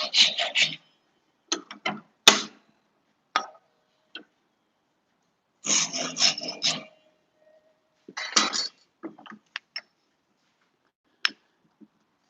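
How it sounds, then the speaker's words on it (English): Several short bursts of hand-sawing through wooden dowels, each a quick run of rasping strokes separated by silent pauses, close and fairly loud with no talking. "Just gonna cut a few dowels."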